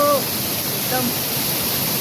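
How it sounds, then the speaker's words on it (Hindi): Rushing water from a waterfall makes a dense, constant hiss, loud and nearby, with a brief voice heard at the start and again around the middle. "इतने बेहतरीन झरना आप देख सकते हो,"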